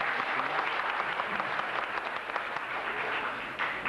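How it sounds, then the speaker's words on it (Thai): A studio audience at a Thai variety show applauds loudly in a dense, even wash of clapping that holds for a few seconds without pause. "ปรบมือดังๆอีกครั้งหนึ่งค่ะ"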